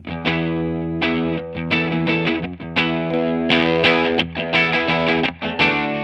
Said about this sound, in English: the first level of distortion is called overdrive